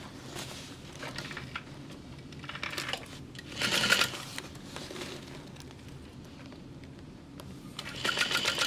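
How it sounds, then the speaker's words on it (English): A sewing machine stitching a fabric bag, its steady running chatter continuing throughout with a couple of louder bursts as the needle speeds up, and nobody speaking. "you just want to sew from stitch line to stitch line"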